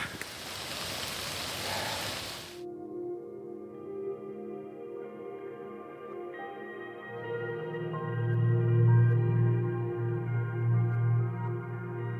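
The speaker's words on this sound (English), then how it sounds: "This rain just came out of nowhere." A sudden downpour outdoors at Cannock Chase hisses loudly and evenly for about two seconds, then cuts off and gives way to a sustained tonal drone that swells later.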